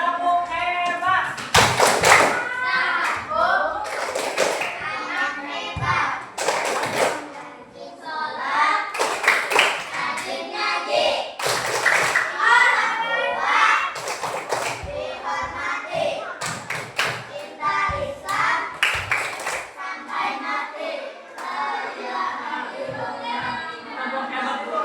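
Children perform the tepuk hebat clapping chant, sharp rhythmic hand claps in short bursts mixed with chanted voices, loud and close with a busy, lively classroom feel.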